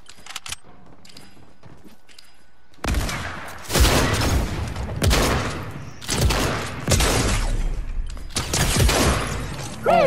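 Prime shotgun blasts in Fortnite, a series of loud, close booming shots spaced about a second apart after a quiet opening, with the last few coming in quick succession.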